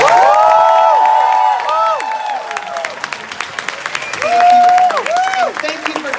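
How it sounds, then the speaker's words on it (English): A large crowd at a DragCon convention stage event claps and cheers under loud whooping voices and high excited shouts, the applause continuing at moderate level throughout. "Give Whoopi Goldberg a big round of applause."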